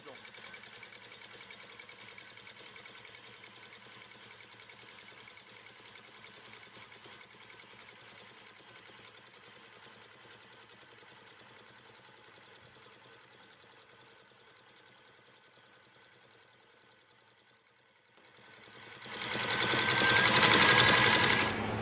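An electric mixer whisks meringue for macarons, with hot sugar syrup just poured onto the whites. It gives a steady, moderate motor whir for most of the stretch, then swells louder and brighter near the end.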